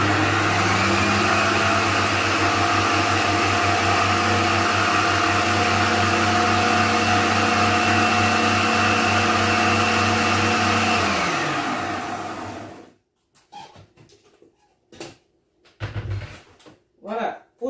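Kitchen blender running at high speed to mix chopped cabbage with water, a loud steady motor whine for about twelve seconds that then cuts off, followed by a few brief knocks and handling sounds.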